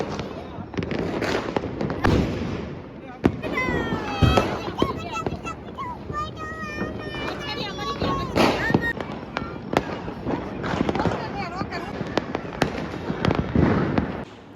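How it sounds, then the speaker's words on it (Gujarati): Diwali firecrackers and bombs burst outside, heard from inside a room: a dense, continuous run of loud bangs, crackles and whistling rockets lasting throughout, with voices talking over the noise. "હજી તમને અવાજ આવતો હશે બારે બોમ્બ ફૂટે છે ભાઈ અને ફટાકડા પણ ફૂટે છે"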